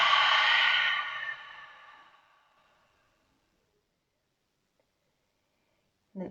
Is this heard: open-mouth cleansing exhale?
yes